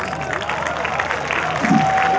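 An audience at a large Urdu mushaira poetry gathering in an expo hall applauds, a steady, moderately loud wash of many hands clapping with faint crowd murmur and a voice briefly heard.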